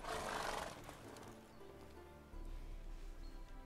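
A horse in The Witcher 3: Wild Hunt gives a loud, close whinny at the start, followed by quieter snorting and shuffling with a low rumble underneath.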